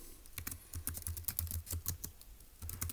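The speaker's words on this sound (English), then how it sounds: "let's go ahead and type that up in our notes in section E" Quick bursts of keystrokes on a computer keyboard during note-taking, clicking in uneven runs with brief pauses, close and fairly quiet with no talking.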